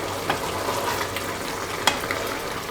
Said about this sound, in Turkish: Biraz daha karıştıralım bu şekilde.